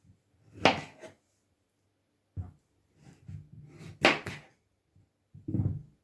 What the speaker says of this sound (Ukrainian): Я його е, нарізаю звичайними кубиками